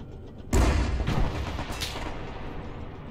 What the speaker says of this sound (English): Let's fire some rounds in there